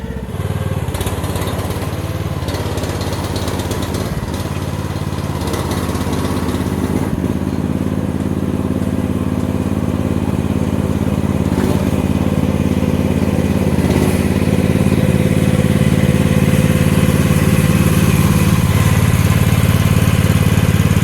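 A small engine on a Chinese mini excavator runs at a steady, loud, buzzing idle, close by and unbroken, growing slightly fuller toward the end.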